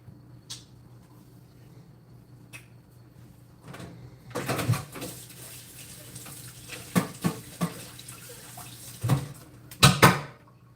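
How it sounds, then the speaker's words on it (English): Rice in a pot is stirred with a spoon in irregular scraping and knocking bursts that grow denser and louder toward the end, separated by quiet pauses of low kitchen hum. "Let's stir the rice."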